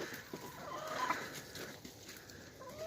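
Hens cluck softly and irregularly while eating roaches in a busy outdoor setting, with scattered low calls and background bustle, no talking.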